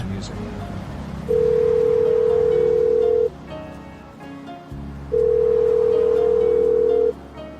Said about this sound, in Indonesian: telepon Mama Niken aja kali ya